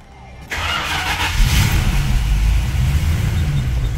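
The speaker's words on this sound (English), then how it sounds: "Let's see if it cranks." A 1989 Aston Martin Lagonda Series 4 cranks briefly, catches and fires up to a loud, steady running engine that holds close by, with a small rev just after it starts.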